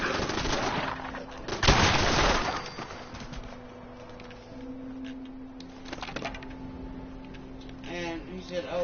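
Automated base turrets firing at enemies in the video game Fallout 76, rapid bursts of gunfire mixed with game effects and a loud blast early on, with someone talking over parts.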